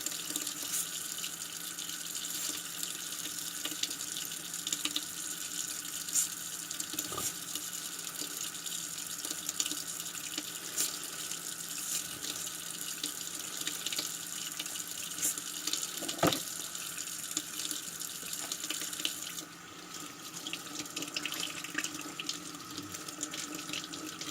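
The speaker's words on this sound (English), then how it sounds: "Rinse your cylinder, visually inspect it." Tap water runs steadily into a sink while a Remington 1858 revolver cylinder is rinsed, a continuous close hiss and splash with a couple of faint knocks.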